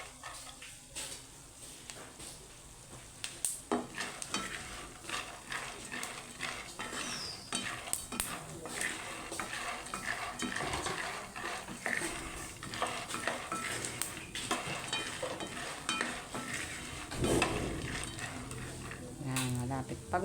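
Peanuts being stir-fried in a pan at home, with steady scraping and rattling of a spatula against metal under a soft sizzle, punctuated by sharper clinks.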